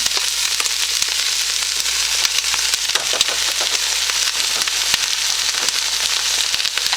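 Onions, carrots and celery sizzle steadily in hot fat as they fry for a homemade bean soup, a continuous close crackling hiss with scattered small pops and no talking.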